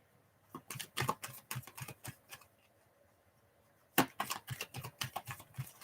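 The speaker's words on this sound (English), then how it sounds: "Let me just shuffle these cards a little bit before I begin." A deck of oracle fairy cards is shuffled by hand in two bursts of quick, close riffling clicks separated by a short quiet pause, with no talking.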